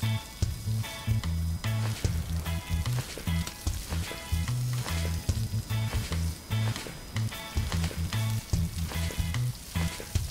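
Fish cooking over a fire in the survival game Stranded Deep, giving a steady crackling sizzle throughout, with background game music and rhythmic low tones underneath and no talking.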